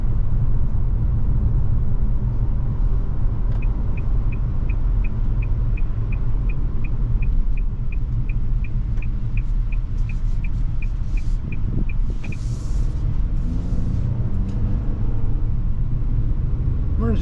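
A 2023 Nissan Altima SL AWD driving through turns, with a steady loud cabin road rumble and engine drone, a run of faint regular ticking like a turn signal, and a brief swell of road noise later.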